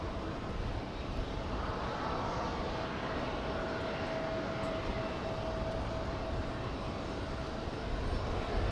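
An Etihad airliner departing JFK airport produces a faint, distant, steady jet roar under wind noise, with no talk.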